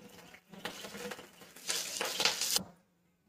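Mustard oil poured into a hot wok, a soft sizzle and crackle that swells in two bursts, the second louder and hissier, then cuts off into silence; no voices.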